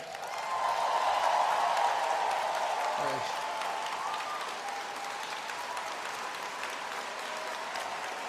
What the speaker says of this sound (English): how about a massive round of applause for someone who gave her farewell speech in the House tonight, Carolyn Bennett.